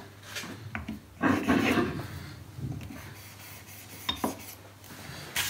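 A blade is rubbed on a fine 6000-grit sharpening stone, giving soft, irregular scraping strokes with a few sharper clicks and knocks, fairly close and quiet.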